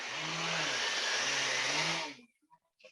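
Wood surface with dried pore filler being sanded quickly and lightly, a loud, steady broadband rasp with a low droning hum that runs for about two seconds, then stops abruptly, leaving a few faint clicks.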